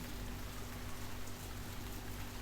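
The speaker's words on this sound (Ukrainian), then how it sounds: "Так, правильно, це дощик." A continuous wash of rain with a soft, steady hiss and low rumble underneath, unbroken for a couple of seconds.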